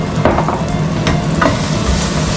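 Garlic sizzles steadily as it hits a hot frying pan for a vegetable lasagne, a close, dense crackle with a few brighter spits and stirring scrapes, no voices.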